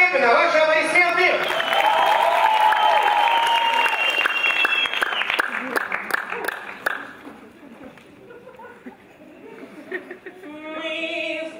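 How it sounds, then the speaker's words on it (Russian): An audience applauds a KVN comedy team at a televised contest with loud, sustained clapping mixed with music and cheering. It fades after several seconds as voices and music take over. "ваши аплодисменты!"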